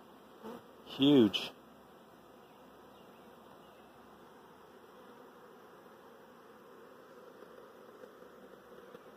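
A large swarm of honey bees moving into a box hums in a steady, close buzz throughout, with a brief louder burst near the start and a single short spoken word.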